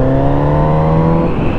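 A Kawasaki Z900 RS neo-retro motorcycle pulls steadily while ridden, its engine a loud, close, sustained drone with smooth harmonics holding pitch then easing slightly near the end.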